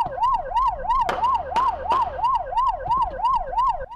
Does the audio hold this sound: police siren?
yes